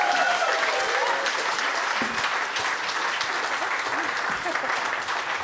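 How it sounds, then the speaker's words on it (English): A crowd at a launch event at Lafayette, London claps steadily and enthusiastically, dense applause filling the whole stretch at a fairly even level. "Please, a round of applause for all our promoters."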